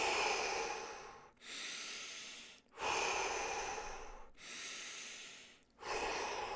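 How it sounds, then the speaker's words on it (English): Slow, deep breaths in and out during a calm morning relaxation routine, with about five long airy breaths in a steady rhythm, each separated by a brief pause, close and alone. "Deep breaths in, deep breaths out."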